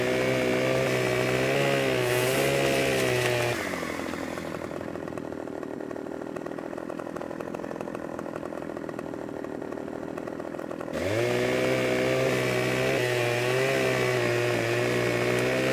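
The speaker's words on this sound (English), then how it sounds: "I had the chainsaw blade at an angle" A chainsaw in Farming Simulator 2015 revs at high pitch, then drops into a lower, rougher bite as it cuts through a tree for several seconds, and finally rises back to a loud revving whine.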